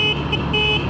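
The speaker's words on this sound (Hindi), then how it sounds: "साउंड इसका अच्छा खासा तेज़ है इसके हॉर्न का" A Hero Xtreme 125R motorcycle horn blares close and loud in a sustained steady tone over road rumble, with brief dips as it sounds out in traffic.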